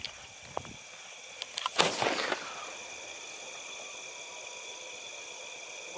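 A Colour Ship brand sky shot firework is lit and launches at Diwali, a brief fizz followed by a sharp whooshing burst and crackle, then a long quiet hiss with no explosion afterward.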